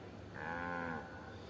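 Cows mooing in the Lego The Incredibles video game, a single drawn-out, tonal moo heard clearly over a soft background hum.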